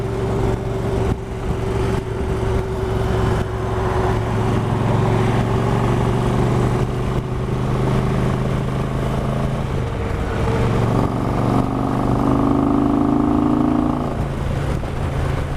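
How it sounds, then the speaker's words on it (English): A motorcycle with a stage one upgrade cruises in sixth gear on a highway, its loud, steady engine rumble holding throughout, with a slight shift in pitch near the end. "I want to get her in 6th gear and see how she rumbles down the highway."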